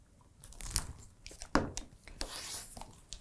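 Fabric quilt blocks for a table runner are trimmed with a rotary cutter against a ruler, giving a few quick crisp scraping cuts and rustling handling noises, close and fairly quiet.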